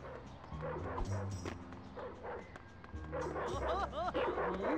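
Several cartoonish dogs bark, yip and whimper in the Ed, Edd n Eddy video game, the sounds busy and layered over game music and effects.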